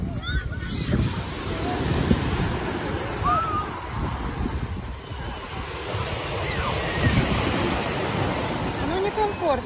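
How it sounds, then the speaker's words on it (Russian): Sea waves surge and break on a Black Sea beach at Kabardinka, with gusting wind buffeting the microphone in a continuous, loud wash and a few faint cries overhead. "Ну, некомфортно, когда волны."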